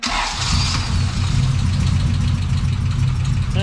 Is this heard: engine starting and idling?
yes